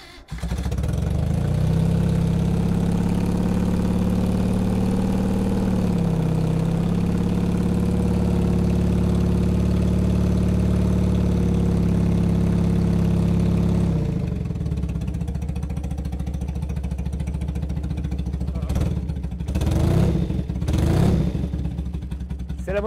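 A motorcycle engine, started with the fuel tap and choke opened, idles steadily and loud for about fourteen seconds, then settles to a lower rumble with a few short revs near the end.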